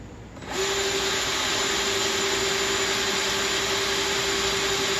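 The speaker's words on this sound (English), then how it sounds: "So I'm going to drill just below it" A power drill spins up and runs at a steady high-pitched whine while drilling into a planting container, loud and close, holding one even tone throughout.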